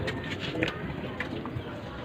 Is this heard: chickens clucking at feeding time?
no